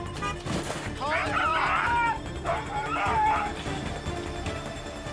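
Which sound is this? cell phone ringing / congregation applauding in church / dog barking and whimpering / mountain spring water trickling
dog barking and whimpering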